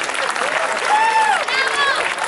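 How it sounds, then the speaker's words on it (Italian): Students applaud at an International Students' Rights Day gathering in Cittanova, a steady dense wash of clapping throughout with whistles or cheering voices rising over it. "quindi un applauso a voi."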